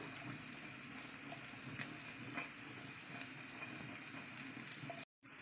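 Onions fry in oil with a little turmeric in a pan for a drumstick and tomato curry, giving a steady, soft sizzle throughout with faint stirring clicks and no talking.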